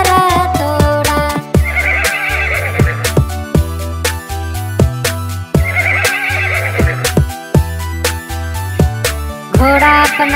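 Horse neighing, part of a children's nursery rhyme about a wooden toy horse, with loud whinnies rising over a steady rhythmic musical backing that continues throughout.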